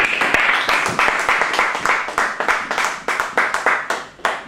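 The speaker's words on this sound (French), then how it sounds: "Applaudissons pour le Seigneur Jésus." A church congregation claps for the Lord Jesus in a brisk, regular rhythm, many hands striking together in a loud, close, continuous beat for over four seconds.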